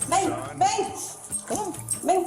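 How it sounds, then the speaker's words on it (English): A dog gives several short yips and whimpering barks in an uneven rhythm, heard under ongoing talk. "what type of dog is that?"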